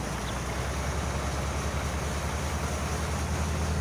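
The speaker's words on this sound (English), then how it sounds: "we've got that sound of running water" Running water ambience plays in Farming Simulator 19 on PS5 with the vehicle engine switched off, a steady, even rushing wash of noise with no voices.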